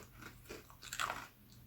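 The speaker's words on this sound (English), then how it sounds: "Oh, those are crunchy. They're much crunchier" Crunchy almond snacks are bitten and chewed close up, with a few soft crunches building to one sharper bite, quiet overall, with no talk.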